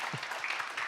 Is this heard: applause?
yes